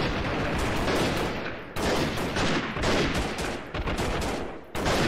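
Sustained suppressing gunfire in the video game Freeman Guerrilla Warfare: dense, overlapping bursts and volleys of rifle and machine-gun fire, loud and close, broken by a couple of brief lulls, with no voices.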